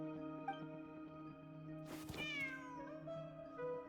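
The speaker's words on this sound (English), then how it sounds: "Come here. There's a good kitty." A cat named Ashru gives a clear, drawn-out meow near the middle, rising then falling in pitch, set against a steady musical hum with no talk.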